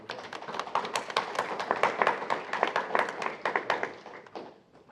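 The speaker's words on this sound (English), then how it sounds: "applause for Stelly, please" A crowd at a graduation ceremony applauding, with dense, uneven hand claps close by that build and then fade out near the end.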